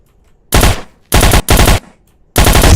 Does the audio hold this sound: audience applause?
no